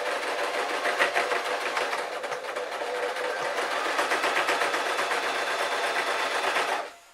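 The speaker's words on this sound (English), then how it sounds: "I'm going to pull the elastic and sew along this seam, and I'm going to sew up to the pin." A sewing machine stitches elastic along a seam on a beach cover-up jumpsuit, running in one steady fast rattling burst for about seven seconds before it stops abruptly, close and alone.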